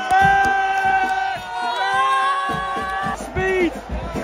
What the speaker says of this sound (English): Crowd are cheering, we know why.